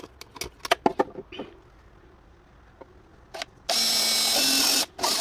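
A power tool drives bolts into the handle of a DC enclosure for a ZDBeny 125A DC circuit breaker, a loud steady whir lasting about a second after scattered clicks and handling knocks.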